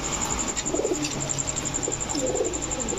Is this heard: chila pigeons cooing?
yes